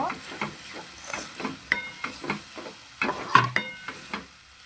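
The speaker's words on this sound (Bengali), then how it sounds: "দিয়ে এবার এটাকে ভালো করে এর মধ্যে মিশিয়ে নেব" A spoon works chopped tomatoes and mango leather through tomato chutney in a pan, giving repeated soft scraping strokes over a gentle sizzle, with a few louder clinks near the end.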